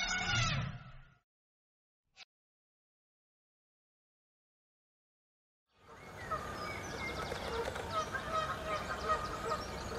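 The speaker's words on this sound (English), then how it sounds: "Goose lives in pond." Geese honking by a pond burst in after a long pause: a loud, dense, continuous chorus of overlapping honks, preceded by a brief sound at the start and a single faint click.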